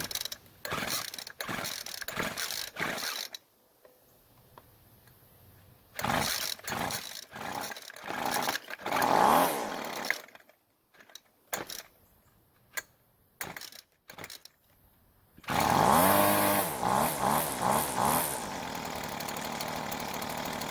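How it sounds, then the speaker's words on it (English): A two-stroke weedeater engine is pulled repeatedly, catching in short sputtering bursts that die between pulls, then fires and runs at a loud, steady buzz to the end. "Let's try starting the engine again and see what kind of adjustments we need to make."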